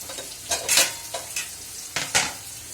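Potatoes sizzle in a pan close by while a utensil scrapes through them in several quick, uneven stirring strokes.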